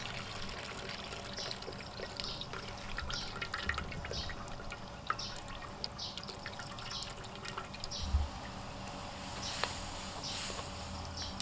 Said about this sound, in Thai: นำกะทิใส่ลงไปในกระทะเลย